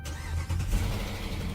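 A car engine cranks and fires up after its fuel pump is jumpered, settling into a steady low rumble close by with no talking.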